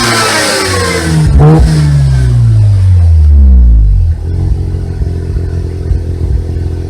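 A Mazda rotary engine revs loudly and close, its pitch sweeping up and falling back through a high-revving pull before settling into a steady, buzzy idle.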